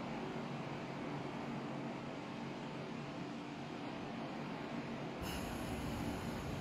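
An MLR electric train runs through Kowloon Tong station in a Roblox rail game, a continuous loud rumble and roar of wheels and motors with a hissing edge that shifts abruptly near the end as the passing sound changes.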